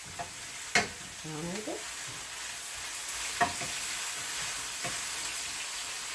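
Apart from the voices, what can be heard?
summer squash frying in oil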